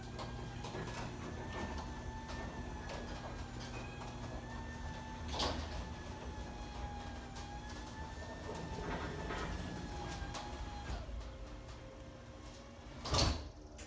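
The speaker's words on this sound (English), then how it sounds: "Let's close both of the doors one at a time" A home garage door runs through its closing cycle with a steady motor whine and a sliding rumble, a pitch shift near the end, then a sharp thump as it seats.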